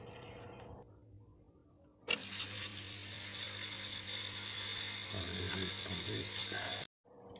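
A Saunier Duval boiler pump whirring and rattling up close with a harsh mechanical buzz while a screwdriver presses against it. The noise starts abruptly, holds steady for several seconds, then cuts off suddenly.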